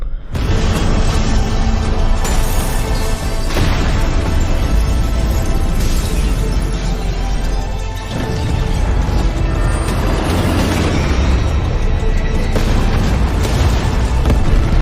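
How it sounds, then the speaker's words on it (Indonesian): A bomb exploding in a film scene, a heavy booming blast with crashing debris and rumbling that fill the whole stretch, loud and dense, with repeated impacts and rolling low-end thunder. "Dan tiba-tiba bom."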